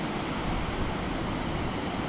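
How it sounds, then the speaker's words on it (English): Water from a waterfall on the River Nid in Knaresborough cascades in a steady, loud, broadband rush, heard from above with no talking. "Just behind me is the River Nid, and there's waterfall. You can really hear it cascading from up here."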